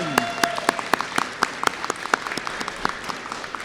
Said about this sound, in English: Let's give one big round of applause for Miss Forseth's homeroom.